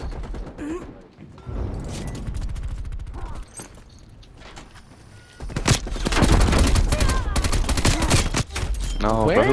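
Gunfire in the video game Black Ops Cold War comes in rapid automatic bursts, loud and close, with clatter and impacts mixed in, growing denser and heavier toward the end.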